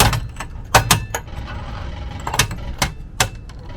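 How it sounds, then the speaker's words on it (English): Metallic clanks and jangles sound as a jack lowers a 2010-2015 Toyota Prius onto jack stands in a garage, with several sharp knocks scattered over a few seconds above a faint background hum. "I'm going to lower the car until the car rests on the jack stands"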